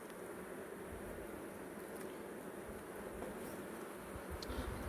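Honeybees humming around a hive in a school-class apiary during a winter visit, a soft continuous buzz with faint passing bees close by, no talk.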